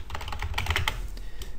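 A project name is typed on a computer keyboard: a quick, close run of crisp key clicks in an uneven rhythm. The clicks cluster tightly in the middle and trail off with a few last taps. No one speaks.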